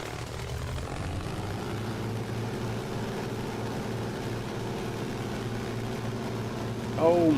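A WWII-era Mitsubishi Zero warbird's propeller engine in Microsoft Flight Simulator runs at a steady loud drone as it powers up for takeoff, with a brief louder swell near the end; no talk over it.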